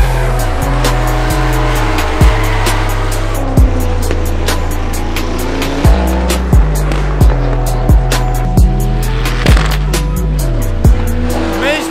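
Loud car engine with a yellow body revving and shifting gears, repeated sharp bangs or pops and rising and falling engine tones throughout, close by and dominant, with faint voices in the background.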